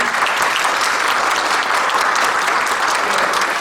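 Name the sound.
audience applause at symposium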